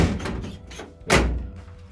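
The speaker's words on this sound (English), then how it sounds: "Try to slam the door as the dirt comes out." Passenger door of a classic car under restoration slammed shut, one loud solid thud with a brief rattle after some lighter handling knocks, close by.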